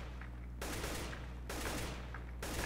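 Sustained automatic AK-47 fire in the game CS:GO, two long bursts of rapid shots with a third starting at the end, loud and close with no talking.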